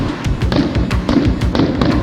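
Fireworks burst at the Edinburgh Military Tattoo in its purpose-built stadium, a rapid, loud run of sharp cracks and thumps in quick succession with no pause between them.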